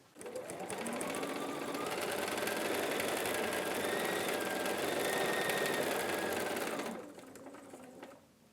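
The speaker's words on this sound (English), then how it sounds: "let's take these to the sewing machine and we're going to stitch this" A sewing machine stitches a quilt block in a fast, even whirring run of about six seconds, close and clear, then winds down to a quieter hum.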